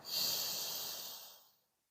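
A single slow, airy exhale during a yoga breathing exercise, soft and close, fading out gently over about a second and a half.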